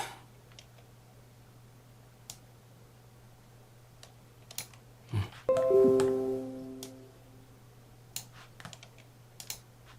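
Computer keyboard shortcut keys are pressed in a few sparse, crisp clicks, with a brief ringing chime tone near the middle, all over a low steady hum.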